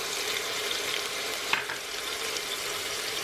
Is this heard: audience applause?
no